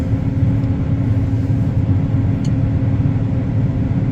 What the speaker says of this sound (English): We're going to go ahead and rev the combine up.